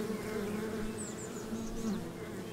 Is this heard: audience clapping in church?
no